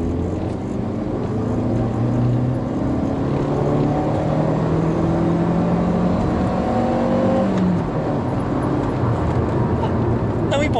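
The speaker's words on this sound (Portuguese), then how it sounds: "Deixa eu dar uma aceleradinha." A VW Spacefox engine revs and accelerates from inside the car, a loud, steady drone whose pitch climbs in stages before easing off near the end, without clear talk over it.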